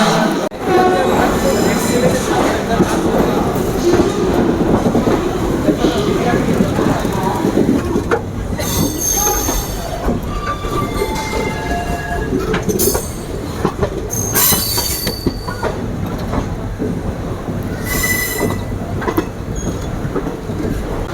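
A Wodeyar Express passenger train departing KSR Bengaluru rolls along the rails with a continuous rumble, rhythmic clatter and intermittent high-pitched wheel squeals, heard alone without voices.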